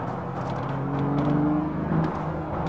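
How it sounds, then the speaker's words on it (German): A BMW Z4 M40i engine revs under acceleration, a smooth sustained growl that climbs in pitch, heard up close and continuous throughout. "Mir gefällt der Ton, wenn man ein Gas gibt, der tönt wirklich schön."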